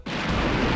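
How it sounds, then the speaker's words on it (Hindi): A firecracker bursts during a Diwali scene in a TV drama, a sudden loud blast that swells into a sustained roaring rumble filling the short moment. "पटाखे पे चिंगारी लग चुकी है।"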